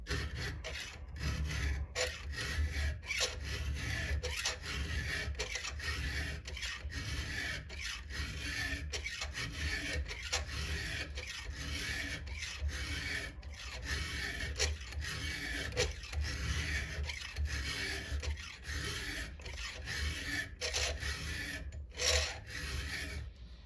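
Steady, rhythmic rasping of a round file from a Stihl 2-in-1 sharpener stroking across a chainsaw chain's cutters, repeated close-up strokes running continuously with no talking.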